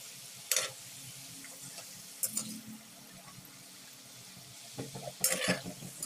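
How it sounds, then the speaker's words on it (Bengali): Moong puli pitha fry in hot oil and are flipped over, a soft steady sizzle broken by a few short scraping clatters as the pieces are turned. "এইভাবে উল্টে পাল্টে এগুলোকে একটু লাল লাল করে ভেজে নিতে হবে"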